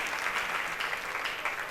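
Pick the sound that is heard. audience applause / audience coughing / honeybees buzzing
audience applause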